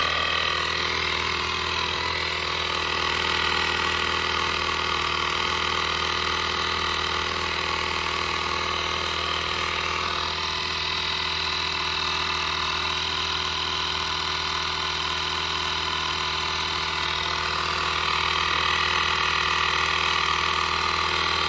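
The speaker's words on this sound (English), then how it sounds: "it's not the fastest pump." A portable electric tire inflator pump runs continuously, a loud steady buzzing whine with a low motor hum that holds level and close throughout, with no pauses and no talk.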